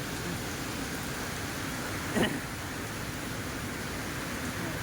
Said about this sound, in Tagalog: Grabe talaga talaga yung ulan dito.